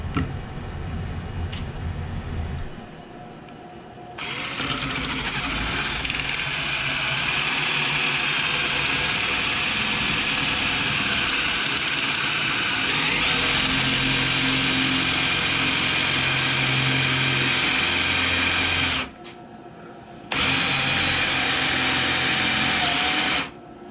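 A drill bores pocket holes through a Kreg pocket hole jig while building a farmhouse twin bed frame, a loud continuous whining drone with a brief stop before it starts again.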